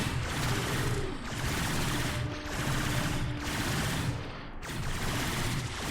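Sustained enemy gunfire in Warframe, rapid automatic bursts hammering at a protective bubble, loud and dense with slight swells and dips over several seconds.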